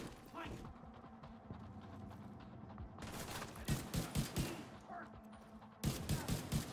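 Video-game gunfire in Division 2: bursts of rapid shots in short volleys, fairly close and punchy, with a louder burst near the end, under a quiet background of game effects.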